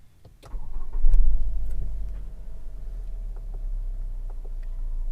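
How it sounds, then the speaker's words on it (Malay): A Proton X70 car engine cranks briefly, catches with a loud surge, then settles into a steady low idle with faint ticking clicks. "Jadi kita hidupkan kereta ni."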